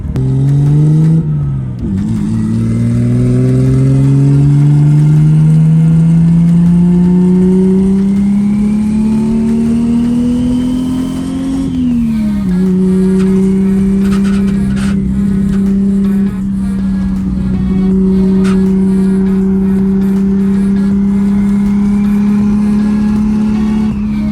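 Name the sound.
Nissan R32 GTR cruising on the road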